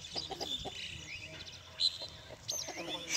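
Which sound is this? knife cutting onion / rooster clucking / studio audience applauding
rooster clucking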